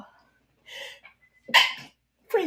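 A person sneezes indoors with short breathy bursts and a sharp louder burst, close and alone without talk, with a dog-like yelp quality in one sound.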